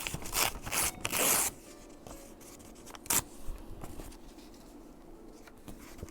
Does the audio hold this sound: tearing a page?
yes